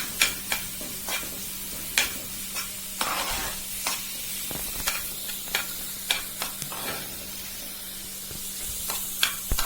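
Onion fries in a pan for a pizza sauce, a continuous close sizzle broken by regular sharp scraping taps of stirring, with no talk over it.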